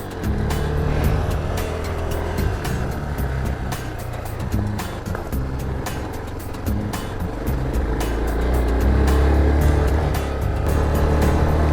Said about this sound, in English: so I'm not over revving the engine but also not lagging.